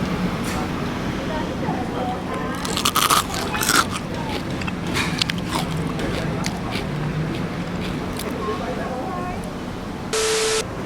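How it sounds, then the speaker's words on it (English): Crisp, airy Chinese roast pork skin (siu yok) in Singapore crackles and shatters in a few close bites, heard under a busy, rumbling background. "It's got this fantastic light biscuit crunch on the skin that is airy and almost fragile. You bite into it and it lightly shatters in your mouth."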